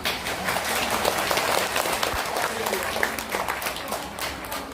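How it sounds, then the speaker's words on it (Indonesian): Audience applause at an Islamic study gathering in Hong Kong, a dense steady patter of many hands clapping that fills the room for several seconds at moderate loudness, with crowd murmur underneath. "Tepuk tangan untuk Mbak Arifah"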